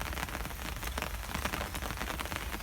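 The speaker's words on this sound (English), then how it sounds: "That's the rain on, good and proper." Steady rain falls on a garden while compost is turned, a dense, even patter of drops that stays loud and continuous throughout, with no voices.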